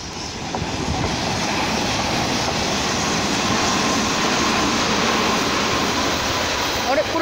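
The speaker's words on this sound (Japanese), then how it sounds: "阪神電車だ。" A Hanshin Railway express train, an old and new set coupled together, rumbles steadily past at close range at sunset, a loud continuous rolling roar with faint wheel clatter throughout.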